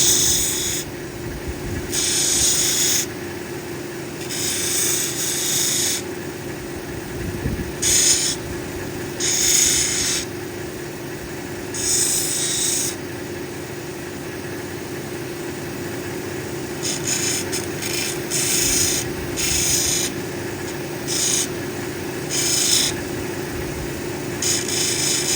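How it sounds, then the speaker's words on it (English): An Australian Lightning Ridge black opal nobby is smoothed at its bevel on a 600 grit lapidary wheel, giving a steady motor hum under repeated bursts of wet grinding hiss as the stone touches the wheel. "Reach over and hit this on the 600 wheel. I'm just going to smooth out that bevel a little bit."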